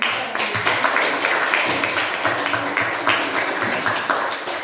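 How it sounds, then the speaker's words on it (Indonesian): A university classroom of students claps together after a discussion, a moderate, continuous patter of hands that stays even throughout. "Kita tepuk tangan untuk Santo yang sudah menjadi."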